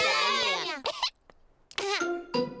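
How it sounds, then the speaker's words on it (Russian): A cartoon child character in a Peppa Pig episode, heard in Russian dubbing, gives a couple of short coughs between bursts of childlike speech. "Кашель у Педро заразный."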